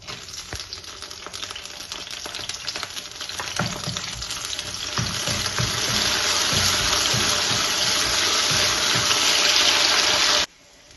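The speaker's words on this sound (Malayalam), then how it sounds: "അത് നമ്മളിങ്ങനെ വറുക്കുമ്പോൾ ആ മുളക് നല്ല ഉരുണ്ട് വരണം" Washed dried red chillies frying in oil for a fried-onion chutney, with a loud, close, continuous sizzle that builds and brightens over several seconds, occasional stirring knocks underneath, then cuts off abruptly near the end.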